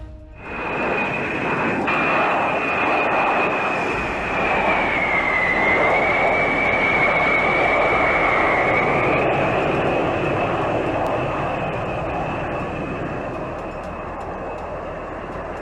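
Jet engines of a C-17 military transport aircraft in flight over Alaska, a loud, steady broadband roar with a sustained high whine that dips and recovers midway, continuous throughout with no voices.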